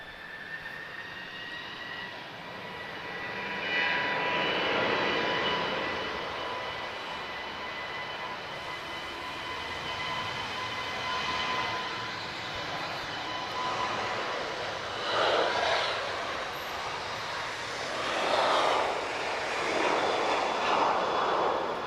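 A KLM jet at Lisbon Airport sends a broad engine roar rising and falling at a distance over about twenty seconds, with steady whining tones and swells of rushing noise near the end, with no voices.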